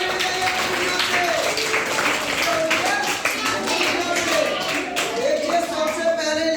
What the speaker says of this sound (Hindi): ताली बजाइए अपनी जोर से।